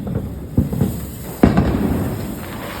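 Two sharp Diwali firecracker bangs about a second apart, close and loud, each followed by a brief crackling tail.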